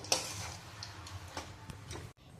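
A spatula stirs food in a frying pan on a home stove, giving quiet scraping ticks and light clinks at an uneven pace over a soft background hiss, with no one talking.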